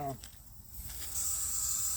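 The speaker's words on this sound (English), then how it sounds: "I'm going to spray some water around it" Water sprays around the edge of a brush burn pile used to clear weeds and slash in Santa Fe County, New Mexico, making a steady broadband hiss. It is faint and grows slightly stronger partway through, with no talking over it.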